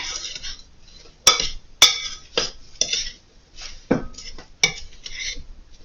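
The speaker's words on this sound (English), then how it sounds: "so then we're going to mix that up really good." Egg being stirred into strawberry rhubarb pie ingredients in a bowl, with a utensil clinking and scraping against the sides in irregular knocks, close and fairly clear, with no talking.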